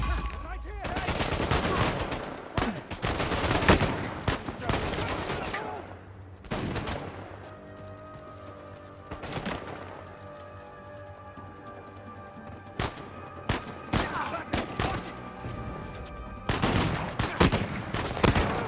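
Rapid gunfire and bursts of automatic weapons in Uncharted 4: A Thief's End, loud and dense in sharp clustered volleys with brief lulls, voices faintly mixed under the shooting.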